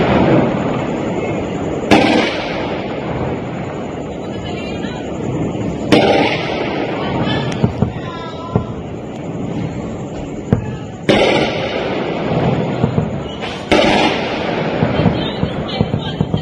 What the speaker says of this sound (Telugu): పాకిస్తాన్ ఎటువంటి బాంబుల దాడిని చేస్తుందో ఒక్కసారి ఆ సౌండ్ వినే ప్రయత్నం చేయండి.